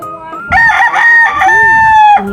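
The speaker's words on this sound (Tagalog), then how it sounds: "Ayan, manok din ni Baga." A loud, close rooster crow with a long, drawn-out final note, heard alone and clearly.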